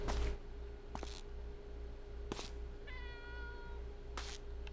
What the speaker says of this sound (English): Why do I hear a cat?